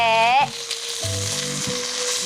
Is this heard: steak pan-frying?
yes